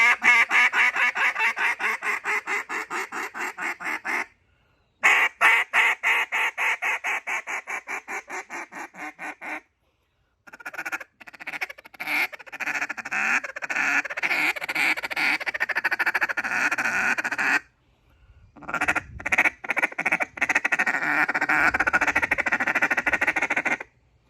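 J-frame and Cutdown duck calls are blown in turns, producing loud, rapid, evenly paced quacking runs separated by brief pauses, with no voices present.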